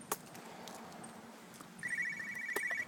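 A telephone starts ringing partway through with a steady electronic trill, fairly quiet and a little distant, after a few scattered room knocks and clicks.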